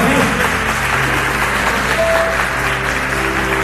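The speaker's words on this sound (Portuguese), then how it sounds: "Vamos receber uma salva de palmas aí em nome de Jesus" Sustained clapping from a church congregation during an evangelical service, a dense, continuous wash of hands with faint background murmur and a brief tone underneath.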